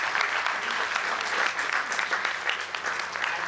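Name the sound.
audience applause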